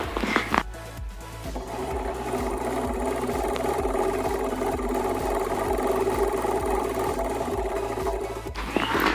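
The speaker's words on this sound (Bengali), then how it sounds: "এবার আমি সেকেন্ড পার্টটা সেলাই করে নেব" A sewing machine runs steadily while stitching a pillow cover, its motor hum and fast needle clatter continuous and close for nearly the whole stretch, with brief handling noise at the start and end.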